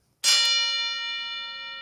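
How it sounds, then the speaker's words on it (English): A single bell chime with a sharp strike and a long, ringing harmonic decay, loud and alone, marking a completed pressure-differential procedure in a show about private aircraft. "The bell."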